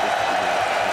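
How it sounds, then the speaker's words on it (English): An arena crowd at a spring split finals in Copenhagen roars for G2 Esports and Fnatic, a loud, steady wall of cheering and noise with no breaks. "Sorry, the crowd's really loud."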